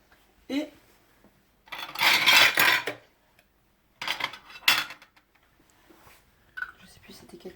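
Glass jar of cherries in kirsch being closed: short clinks and scraping clatter of the lid being handled and fitted, in separate bursts with quiet pauses, while a person speaks softly.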